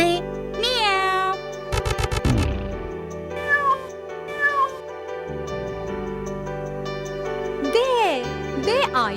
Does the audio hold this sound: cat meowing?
yes